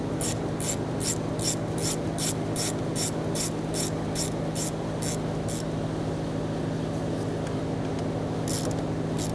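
A hand ratchet with an E7 socket clicks in quick, even bursts while backing out two valve cover bolts on a 2007-2013 BMW X5 3.0L inline-six, the clicking stopping partway through over a steady low shop hum.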